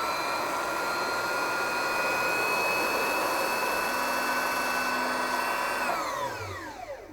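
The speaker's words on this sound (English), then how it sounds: "the bobbin winder spindle stops spinning even though you can hear the motor going" A Viking Onyx 25 sewing machine motor whines at high speed while winding a bobbin, a steady loud hum with bright tonal overtones that winds down in pitch near the end.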